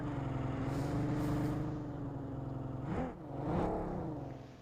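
A buggy's engine in a multiplayer battle royale game drones steadily at a mid pitch, with a revving swell and a brief dip near the end, heard alone at moderate level.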